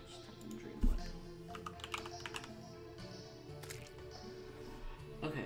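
Rapid clicking of a computer keyboard runs beneath a voice talking over it, the keystrokes quick and fairly soft, with one heavier thump near the start.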